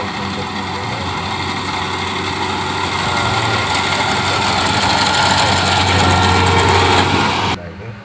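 A rice harvesting machine's engine runs steadily in a paddy field, a loud continuous motor drone building slightly before cutting off sharply near the end.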